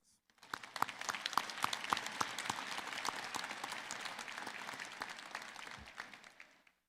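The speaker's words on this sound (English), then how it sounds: "Let's give them a round of applause." Graduation ceremony audience breaking into applause, many hands clapping in a full room, rising quickly, holding steady and then fading out at the end.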